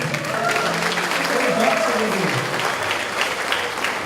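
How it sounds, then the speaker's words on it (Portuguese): A church congregation applauds steadily at a Baptist association's anniversary gathering, a dense, continuous wash of clapping from a crowd that stays even and fairly loud throughout. "Que coisa linda, pode aplaudir mesmo."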